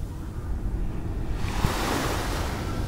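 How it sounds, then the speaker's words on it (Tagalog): Strong waves washing onto the Manila Bay shore, a loud rushing surge of surf that swells midway, mixed with wind buffeting the microphone, no voices. "Dito lang mga kabayan ang medyo malakas-lakas ang ang alon, no."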